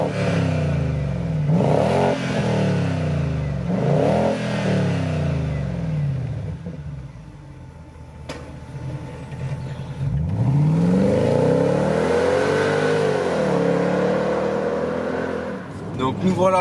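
A BMW X5 4.8is E53 engine pulls hard on the road, with repeated rising revs near the start, a quieter stretch, then a long strong surge. A voice talks over parts of it.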